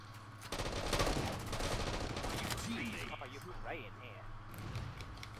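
Rapid automatic gunfire bursts in a Halo Infinite multiplayer Slayer match on Solace, loud and close at first then thinning out, with a player talking over it.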